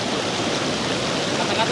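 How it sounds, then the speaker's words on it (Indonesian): River water flows on a trek at Leuwi Hejo, a steady close rushing wash that runs without pause, with voices faintly present beneath it. "menikmati suara air"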